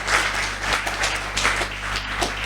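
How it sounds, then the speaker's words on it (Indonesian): Brisk applause from a gathered school audience in Purworejo, dense rapid clapping heard steadily throughout the short burst. "Tepuk tangan buat Purworejo"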